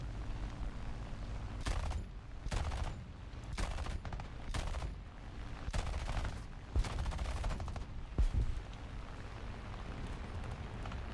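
Yak-3 fighter guns in War Thunder firing at a B-25 bomber, heard as a series of loud, punchy bursts of gunfire spread across a steady roar of engine and wind, with no talking.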